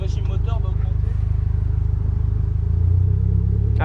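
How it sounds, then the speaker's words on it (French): A Renault Clio 4 RS idles with a low, rapid engine throb that rises slightly in pitch toward the end as sport mode lifts the revs, with someone talking over the start. "quand j'active le mode sport, tu vois que le régime moteur va augmenter."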